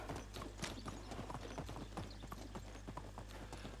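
Horse hooves clip-clopping in the medieval life-sim game Medieval Dynasty, a quick steady trotting rhythm of clops over a low constant hum, fairly quiet and with no talking.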